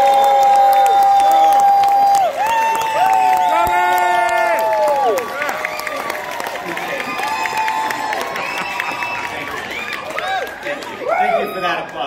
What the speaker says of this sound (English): Please give this round of applause for your John Mathai.